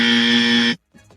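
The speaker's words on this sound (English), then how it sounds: "Throw the dummy buzzer in there for him." A loud, harsh electronic buzzer blares steadily for under a second, then cuts off abruptly, followed by faint indistinct sound.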